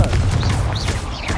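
A Confringo fire blast spell cast in Hogwarts Legacy, a loud, dense burst with crackling, booming energy sustained through the short moment amid continuous combat effects.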